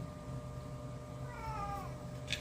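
A cat meows with a drawn-out, wavering cry in the middle, heard close and fairly clear over a steady low hum, with a brief sharper squeak at the end.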